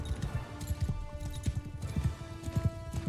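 A horse gallops in the video game Mount & Blade II: Bannerlord during a battle, its hooves drumming in a fast, steady clip-clop rhythm over a busy battle din.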